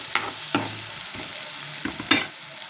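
Green chillies frying in an oiled pan for a ridge gourd and dried prawn curry, a close, steady sizzle broken by several sharp stirring scrapes, with no voices.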